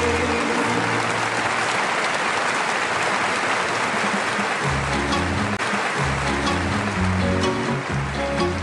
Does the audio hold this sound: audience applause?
yes